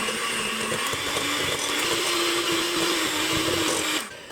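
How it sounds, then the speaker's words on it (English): An electric hand mixer beats cookie ingredients together for Christmas cookies, a loud, steady whirring motor hum that runs alone, then cuts off near the end. "we're going to plug in the mixer and we're going to beat together these ingredients"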